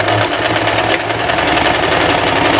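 A sewing machine runs a straight seam along a shirt sleeve, giving a steady, close mechanical hum with a low rhythmic throb that holds for the whole stretch without pause.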